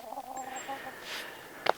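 Roosters cluck on an off-grid homestead in Portugal, a few soft low clucks and calls close by, ending in a sharper brief squawk.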